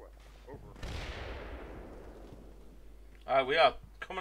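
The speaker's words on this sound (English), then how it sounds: "We are coming under fire" Gunfire in Combat Mission Shock Force, a single loud blast with a long decaying rumble and echo, followed by a voice speaking close by.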